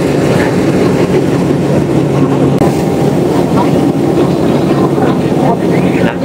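A locomotive-hauled train rumbles loudly and continuously along the rails nearby, near the Bridge over the River Kwai in Kanchanaburi, Thailand, heavy low clatter with wind buffeting and a voice talking over it.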